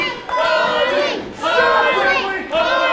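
Loud wrestling crowd at a BDW Internet TV Championship match, chanting and cheering in three surging bursts of massed voices, close and full.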